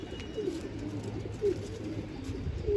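A pigeon on a rooftop coos in a few soft, low, rounded calls spaced about a second apart, close by over faint background ambience.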